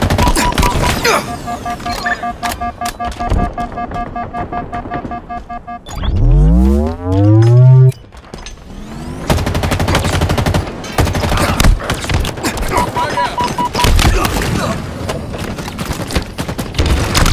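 Halo Infinite multiplayer combat: loud bursts of automatic gunfire, then a grenade's rising, warbling swoop and blast, followed by more sustained shooting, all close and dense without talk.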